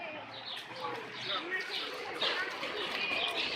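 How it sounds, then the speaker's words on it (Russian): A flock of pigeons coos and flutters softly in a city park square in Yevpatoria, with faint chirps scattered through steady outdoor background noise and people speaking quietly nearby. "Смотри, сколько голубей."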